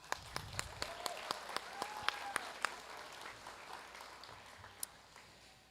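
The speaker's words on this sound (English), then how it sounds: "Let's give her another hand clap" A graduation audience at the Academy Prep Center of Lakeland claps in a quick, fairly sparse run of distinct hand claps that thins out and fades, with faint room murmur.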